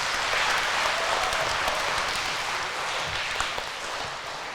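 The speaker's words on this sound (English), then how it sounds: "Let's give a round of applause to these performers." An audience applauds the Heartland Dulcimer Club performers, a steady, dense patter of many hands clapping at moderate distance that tapers slightly toward the end.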